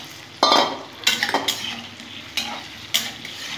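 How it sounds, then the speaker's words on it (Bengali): Potatoes fry in a pan beside a faint background sizzle, punctuated by several close metallic scrapes and clinks of a spatula stirring at irregular intervals. "আলুগুলো ভেজে নেবো লাল লাল করে"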